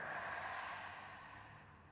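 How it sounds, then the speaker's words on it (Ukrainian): A long, calm exhale in guided yoga breathing, heard close as one soft breathy hiss that fades gradually across nearly two seconds, with no voices. "І довгий спокійний видих."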